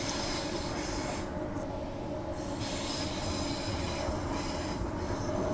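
A two-car passenger train rolls steadily with a loud, continuous rumble and high metallic wheel squeal over the top, no voices.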